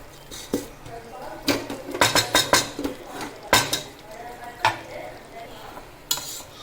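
Cooked rice is scooped and stirred into a pot of Kumbakonam-style vatha kuzhambu on a lit stove, with a string of scraping and clinking knocks of a spoon against the metal pot over a faint sizzle.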